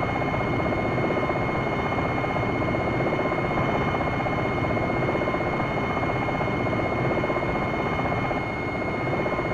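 A hovering attack helicopter in the flight simulator game Longbow 2, giving a constant, steady rotor and engine drone that holds evenly with no talk.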